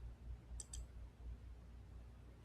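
A computer mouse gives two quick faint clicks in close succession over a low background hum.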